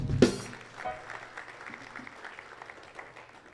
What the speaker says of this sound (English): Can we give them a better clap?